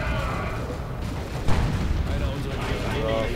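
A tank fires during a Dawn of War II multiplayer battle, one sharp boom standing out midway through a dense, continuous wash of game combat noise.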